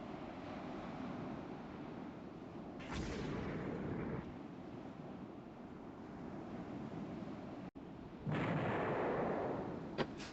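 Naval gunfire in the Rule the Waves 3 game, a low continuous rumble broken by two heavy booming salvos with a burst of noisy blast and roar after each.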